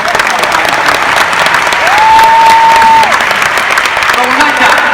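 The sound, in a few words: audience applause at summit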